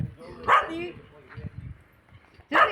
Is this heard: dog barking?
yes